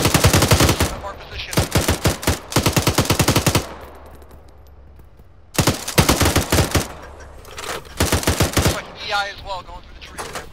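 Automatic gunfire rattles in a video game battle, with several loud rapid bursts separated by quieter gaps and a few scattered single shots near the end.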